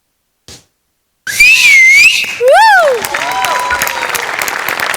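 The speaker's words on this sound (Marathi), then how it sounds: "तुमच्या दोघांसाठी होती शिट्टी" A comedy show audience bursts into loud, sharp whistles and applause for performers after a skit, with piercing rising and falling whistles over clapping and crowd noise following a brief quiet moment.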